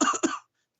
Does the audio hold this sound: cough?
yes